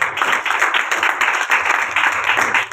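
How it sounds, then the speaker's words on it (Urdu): Loud, dense applause from an audience clapping in honour of a tabla player after his performance, a brief continuous burst of many hands with no speech over it. "حارث بھائی کے لیے تالیاں"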